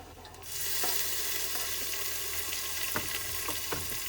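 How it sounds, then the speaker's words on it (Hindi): Chopped tomatoes are added to a pan of cooked onions and begin frying with a soft, steady sizzle and occasional light stirring clicks, quiet and close. "अब डाल देते हैं इसमें टमाटर।"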